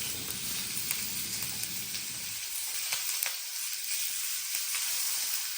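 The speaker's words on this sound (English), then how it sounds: "I just kind of let them sit there and scorch them a little bit." Peppers for pepper steak scorch and sizzle steadily in a hot pan, a continuous close frying hiss with occasional pops and crackles, a low rumble in the first couple of seconds then dying away.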